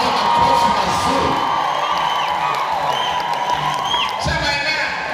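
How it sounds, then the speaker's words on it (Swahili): A church congregation cheers and shouts continuously, with some applause under a loud, steady crowd roar. A voice carries over the noise throughout. "piga makofi mazuri"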